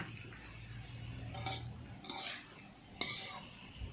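A utensil stirs pumpkin shoots and minced pork in a pan with a little sugar, a few quiet scrapes and clinks against the metal over a faint sizzle.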